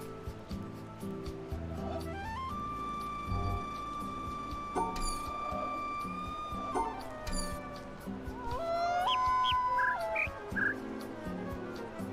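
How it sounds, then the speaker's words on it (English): Tonal bird calls from The Witness puzzle game: a long steady whistle-like note, then several short rising chirps and tones over a soft ambient background, fairly close and clear. "I think I'm listening to the bird."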